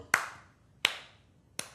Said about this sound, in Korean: 너를 보고 손뼉을 친다.